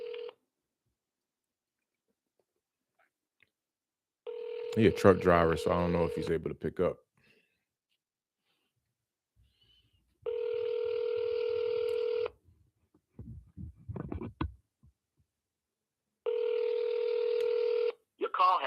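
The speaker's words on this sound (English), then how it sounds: "Notice how the phone ringing now?" Ringback tones of a phone call: repeated buzzy rings, each about two seconds long, separated by silences, with a voice speaking briefly between them.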